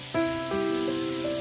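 Cumin and coriander powder go into a hot pan of frying tomatoes for a fish kalia, raising a steady, close sizzling hiss with a faint tonal ring over it, heard alone for a moment.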